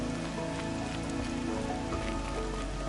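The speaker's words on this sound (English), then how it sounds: "Rain's not so bad." Steady rain in the video game Horizon Zero Dawn, a dense, even patter across the whole three seconds with no talk over it and a low tonal hum beneath.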